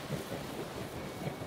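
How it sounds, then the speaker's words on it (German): Steady wind blowing across the desert near an oasis in The Legend of Zelda: Breath of the Wild, a continuous broad rushing whoosh with gentle swells and no voices. "Hier weht auf jeden Fall wieder Wind."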